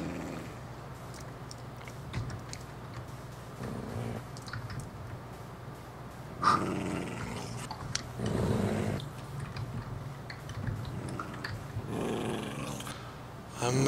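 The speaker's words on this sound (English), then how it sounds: "Those dogs are just asking to die." Hostile wolves growl in a Minecraft desert survival match, low snarls rising in short bursts amid steady clicking of a keyboard and mouse, faint and close, with no speech.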